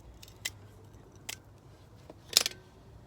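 Scissors snip a store-bought rose cutting stem a few times, giving sharp, faint, separate clicks against a quiet background.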